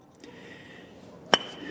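A single sharp metallic clink rings out as a hammer strikes a seized AC compressor clutch pulley on a 1997–2001 Honda CR-V, standing alone against a low background hum.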